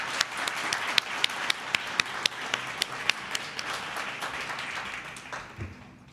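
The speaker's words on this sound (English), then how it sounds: "let's give another round of applause to all of our speakers" Audience applause at a Columbus youth council fellows ceremony, with a steady wash of many hands and a few sharp nearby claps standing out before it eases off toward the end.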